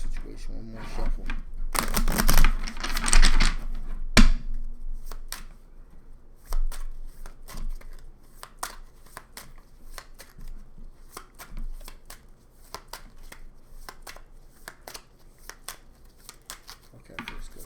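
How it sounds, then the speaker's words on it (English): Tarot cards being shuffled during a reading: a loud riffling burst for about two seconds, then repeated crisp card snaps and slaps in an irregular rhythm, with faint room tone between. "One more shuffle."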